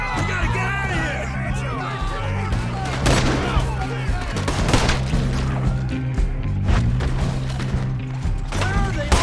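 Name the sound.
gunfight in Red Dead Redemption 2 video game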